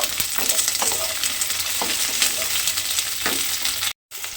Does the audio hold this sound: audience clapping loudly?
no